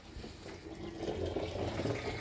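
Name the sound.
water flowing from irrigation pipe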